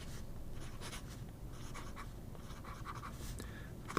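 A steel-nib pen writing with dark brown Hongdian ink on paper, a soft, continuous close-up scratching with faint stroke-by-stroke variation, quiet and alone.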